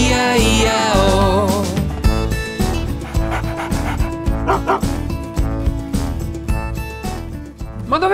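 A cartoonish dog barks and yips repeatedly in rhythm with an upbeat Italian children's farm song, the woofs sitting inside bright, busy music with no talking.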